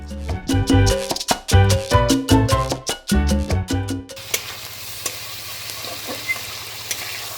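A spicy fish curry cooks in a pan; after a loud stretch of rhythmic music, a soft continuous sizzle with light stirring carries on alone.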